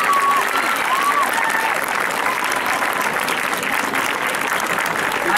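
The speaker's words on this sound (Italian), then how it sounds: "Un applauso forte anche a loro, forte" Sustained, dense applause from an audience at an Italian school event honouring experts and staff, loud and steady throughout, with faint tonal whistles or voices rising briefly above the clapping.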